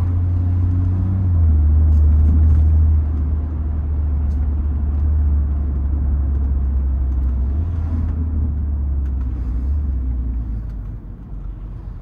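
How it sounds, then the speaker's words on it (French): A BMW M140i driving through city traffic in Ajaccio, its engine giving a strong steady low rumble heard from inside the car, swelling slightly early on before easing and fading toward the end. "vous faire écouter un peu le son de la voiture"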